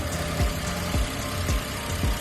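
Suzuki DA17V 4x4 turbo engine revved, producing a steady mechanical drone punctuated by four evenly spaced deep thumps about half a second apart, close and fairly loud.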